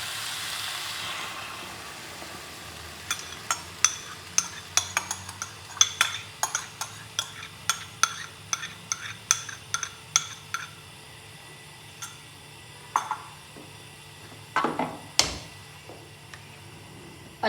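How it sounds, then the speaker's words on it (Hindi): A metal spoon stirs green masala paste into chicken in a pan, giving a string of light clinks and scrapes against the pan at an uneven pace, close and moderately loud, with no talk. "अच्छे तरीके से हम इसे मिक्स करेंगे।"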